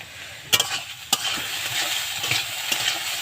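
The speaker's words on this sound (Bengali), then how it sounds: "চলো এখানে আমি ভালো করে এটাকে ভেজে নিচ্ছি" Banana stem fries in a pan with a pinch of sugar, a close, steady sizzle broken by a few sharp scrapes and clacks of a spatula stirring it, with no one speaking.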